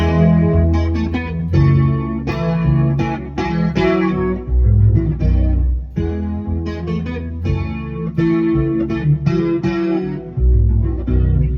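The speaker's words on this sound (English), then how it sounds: "So this is Dragonfly Reverb. I used it on this guitar cover." Electric guitar played through the Dragonfly Hall Reverb plugin, notes ringing out and blending into a lush, lingering tail throughout, no voices.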